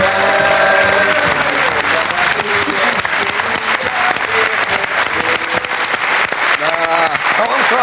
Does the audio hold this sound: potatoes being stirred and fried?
no